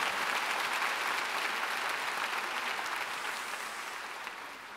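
Dense, steady applause from a large congregation at a church rally in a gymnastics arena, a continuous wash of many hands that holds level and tapers slightly toward the end, with no voices standing out.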